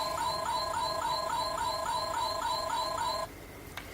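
A Kamen Rider Kaixa toy belt emits a rapid repeating electronic beeping pattern for about three seconds, then cuts off abruptly, followed by a faint click against low background hiss.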